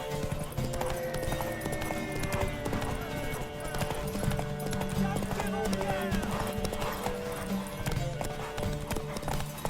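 Horse hooves clip-clop in a steady rhythm with occasional neighs in The Witcher 3, over a game score, close and clear with voices talking intermittently.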